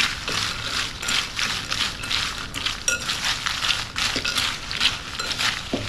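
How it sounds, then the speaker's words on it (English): Buttery crackers being tossed and crushed together in a bowl of melted butter for a ground beef casserole topping, giving a steady dry crunching and rattling with soft clinks, close and continuous, with no talking. "what you're gonna do is you're just gonna toss these in that butter"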